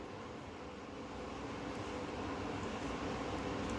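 A sewing machine runs steadily, stitching the upside-down top panel of a kurti onto its bottom panel with a half-inch margin. It makes a continuous, dense mechanical whirr with no pauses and no talking.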